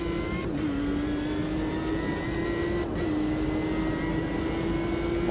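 V6 turbo race car climbing the hill at Mount Panorama, Bathurst, in Automobilista 2, a steady loud engine drone holding a high pitch with brief shifts, continuous and close.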